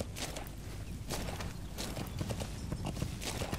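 Horse hooves clip-clopping in Metal Gear Solid V: The Phantom Pain, a steady rhythmic gait of hoofbeats over a dense, noisy game soundscape, continuous and fairly close.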